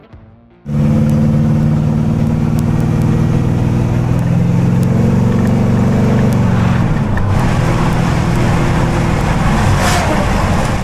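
After a brief quiet start, the deep exhaust of a 1967 Chevy Impala station wagon drones steadily as it cruises down the street, loud and close, with road and wind noise.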